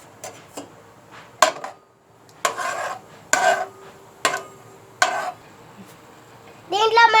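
Whole garam masala being stirred in hot oil in a pot, several distinct scraping strokes of a spoon against metal at an uneven rhythm, close by, with a voice at the end.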